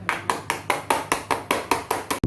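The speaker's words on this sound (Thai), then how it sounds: "เราก็จะมาเคาะเคาะเคาะ" Steady tapping while making a chocolate cake, about eleven evenly spaced sharp knocks close up, ending with a slightly heavier thud.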